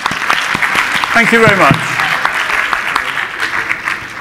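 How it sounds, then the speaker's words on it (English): An audience claps steadily throughout while a person briefly speaks over the applause near the start. "A round of applause"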